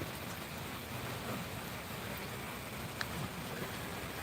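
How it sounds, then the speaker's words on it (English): Rain falls on a metal roof as a steady, faint, hissing patter with occasional slightly sharper drops, and no voices over it. "that's our rain on a metal roof"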